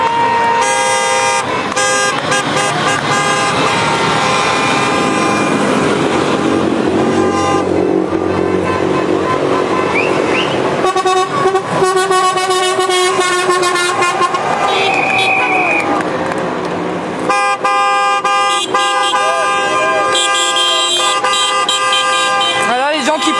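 Car horns honk repeatedly in a loud, dense street chorus as a Freedom Convoy departs Rennes, with long sustained toots overlapping engine noise and voices in the crowd.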